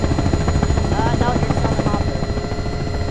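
A helicopter in Garry's Mod drones with a loud, dense, continuous rotor buzz and whine that fills the whole stretch, steady throughout with no pauses.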